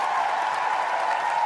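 A brief, steady burst of audience applause at a lunchtime labor event, an even wash of clapping with no voices.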